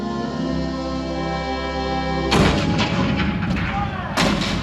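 Cannon artillery fire at Fort Sumter in 1861, heard as loud booming blasts, one heavy report at mid-clip and another near the end, breaking in over a sustained low musical drone.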